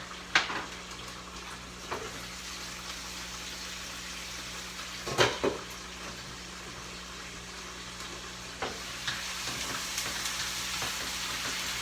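Macaroni pasta with lemon zest is stirred in a pan over a steady sizzle, with a few spoon scrapes and knocks against the pan.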